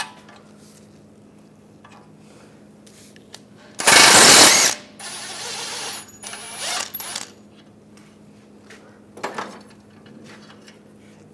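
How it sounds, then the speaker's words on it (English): A 21mm ratcheting wrench works the nut on a rear forward lower control arm of a 2009-2017 Volkswagen Tiguan: a sudden loud metallic burst, then intermittent ratchet clicks and clatter in a quiet garage. "And use a 21mm wrench."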